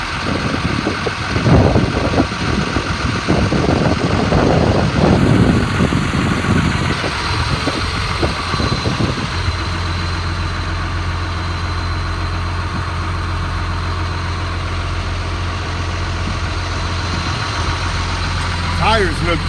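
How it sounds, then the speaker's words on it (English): A 2002 Sterling M8500 bucket truck's diesel engine idles steadily and loudly up close, a low constant rumble with a clattering, shifting tone early on before settling into an even drone. "The truck runs good, the motor sounds good."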